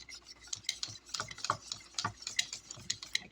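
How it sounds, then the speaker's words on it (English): Cornstarch and a splash of cold milk stirred into leftover chicken gravy, a soft, quiet scraping and clinking of a utensil against the container in quick irregular strokes, with no voices. "I'm going to put about a tablespoon cornstarch and stir that in there"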